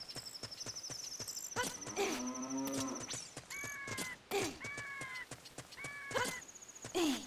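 Low, drawn-out moos from a cow in the Zelda Ocarina of Time video game, heard two or three times among game music chimes and sound effects, fairly clear in the mix.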